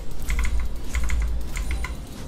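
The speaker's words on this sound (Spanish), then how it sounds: "muchos de vosotros me habéis dicho que os gusta cómo puto suena mi teclado" Typing on a computer keyboard during a League of Legends match, with close, crisp clusters of key clicks in quick bursts over a low background hum.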